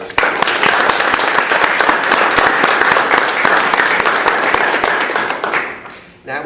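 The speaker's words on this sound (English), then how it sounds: "I would like to ask for a quick round of applause" Loud applause from an audience at a charity launch event honoring donors, dense rapid clapping that lasts about six seconds and then fades quickly.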